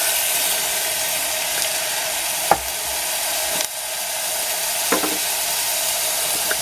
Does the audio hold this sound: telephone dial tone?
no